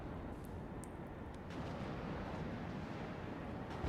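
Artillery shells slam into an MRLS in the war strategy game WARNO, a dense, continuous rumble of explosions with scattered sharper bursts on top, loud and unbroken throughout with no voices.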